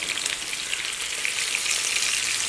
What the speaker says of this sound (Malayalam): ഞാനിവിടെ ചെറിയ തീയിലിട്ടിട്ട് മൂടി വെച്ചിട്ടാ ഒന്ന് വറുത്തിട്ടെടുക്കുന്നുണ്ട്